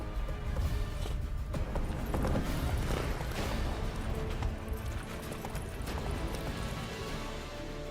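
A horse gallops in The Witcher 3 video game, with rapid, continuous hoofbeats close by and steady, loud clopping over rough ground, plus faint clattering of tack.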